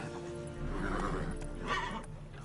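A horse in The Witcher 3 video game gives a short whinny over the soft clip-clop of its hooves, close and moderately quiet, lasting only a couple of seconds.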